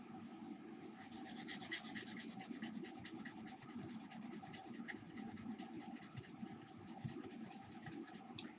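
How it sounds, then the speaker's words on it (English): Steady abrasive rubbing of a sanding pad across a copper circuit trace, a continuous close scratchy rasp with rapid back-and-forth strokes and no talk. "it'll take quite a lot of sanding to eat through the copper"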